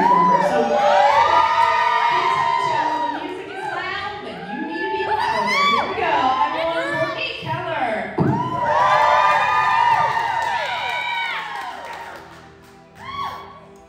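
A crowd at a pole dance showcase cheers and whoops loudly in sustained bursts, high shouts and shrieks swelling, dipping briefly mid-way, then surging again before fading near the end.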